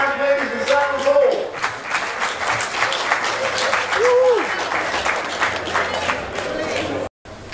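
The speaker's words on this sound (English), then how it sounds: "A big hand, ladies and gentlemen, Paul." Audience applause for a driver at a supercar hillclimb event, a steady, loud wash of crowd clapping lasting several seconds, with a voice speaking over it near the start.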